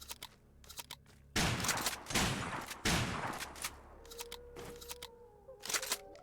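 A Shorty 590 shotgun in a video game fires three heavy booming blasts at slow, even intervals, each with a long decaying tail, followed by faint clicks and handling sounds.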